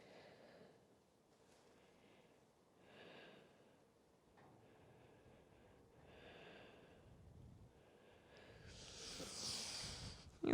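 Soft, steady breathing during a prenatal yoga session, slow inhales and exhales repeating quietly at close range, with a louder, rougher breath near the end.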